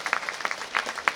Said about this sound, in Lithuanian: Jūsų šilti aplodismentai.